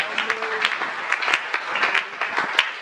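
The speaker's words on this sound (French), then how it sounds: "Merci pour ce petit applaudissement." Small burst of applause from a church congregation during a Sunday service: scattered, uneven claps at moderate volume, fairly close, with a faint voice in the background.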